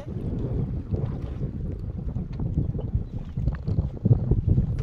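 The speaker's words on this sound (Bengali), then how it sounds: "এত বৃষ্টিতে বা বাতাসে থাকা সম্ভব না" Heavy wind roars across the microphone in continuous gusts on the Brahmaputra River, with a dense rushing wash of rain driven by strong wind outdoors.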